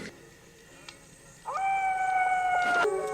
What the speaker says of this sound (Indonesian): tiba-tiba mereka mendengar suara raungan mirip serigala